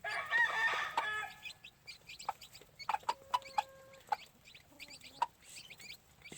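Gamefowl hen on a farm where chicks have hatched, clucking in a burst of short, close calls with sharp peaks, amid other chicken vocalizations and faint peeping.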